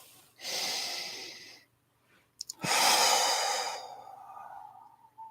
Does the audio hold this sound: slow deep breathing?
yes